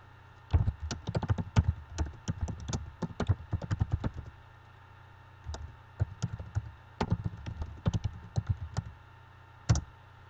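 A computer keyboard typed on at a software translation interface gives close, crisp key taps in quick irregular clusters, separated by short pauses and ending with a single isolated tap.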